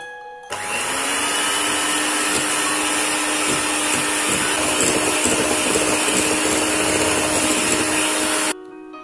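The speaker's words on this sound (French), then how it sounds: "Je travaille au batteur électrique pendant 1 minute." An electric hand mixer beats eggs, egg yolk and sugar for brownie batter, a loud steady motor whine that starts abruptly, runs unbroken for about eight seconds, then cuts off.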